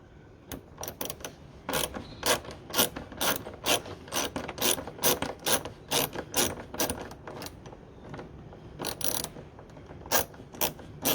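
A 7mm ratchet on a Ford Mondeo mk3 ST220 airbox gives rapid bursts of sharp clicking as it is worked back and forth, close and irregular, with short pauses between runs and no talk.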